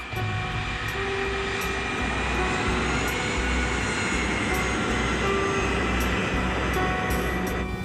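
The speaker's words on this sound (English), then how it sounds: "The KLM plane is groping its way through fog." A KLM jet airliner taxiing through fog, its engines producing a loud, steady roaring drone that stays constant and close throughout with no break.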